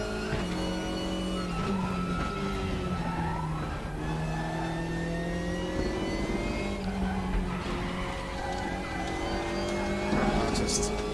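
Engine of an Opel Astra TC front-wheel drive touring race car in the RaceRoom racing game, droning steadily with rising and falling pitch through shifts and corners, continuous and fairly close.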